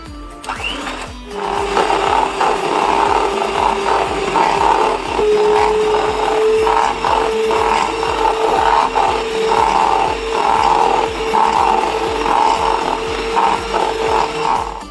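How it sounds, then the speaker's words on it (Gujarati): Electric beater whipping chilled non-dairy whipping cream in a bowl, a steady loud motor whir with rhythmic scraping and rattling of the beaters against the bowl, continuous throughout with no talk. "બીટર મશીનના મદદથી તેને હવે આપણે બીટ કરીશું."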